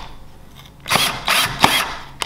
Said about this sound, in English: we're going to start by drilling through here until the screw comes just out the other side.